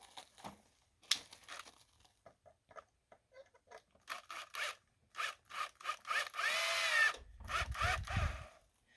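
Screws are driven through wooden boards with a power drill to build a press for KYDEX holster molds. Short whirring bursts come in quick succession, with a longer, louder run near the end over scraping and handling noises.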